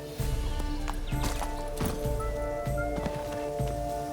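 Horse hooves clip-clopping steadily in The Witcher 3: Blood and Wine, mixed with a whinny, game music and ambient effects in a continuous, fairly loud bed.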